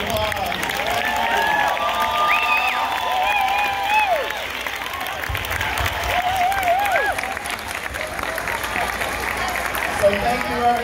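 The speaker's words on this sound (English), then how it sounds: "one big, huge round of applause" Parents and audience at a middle school Christmas choir concert applaud the student singers with long, steady clapping, with scattered cheers and voices rising above the crowd noise.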